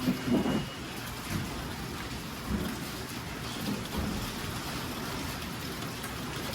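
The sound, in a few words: long steady rain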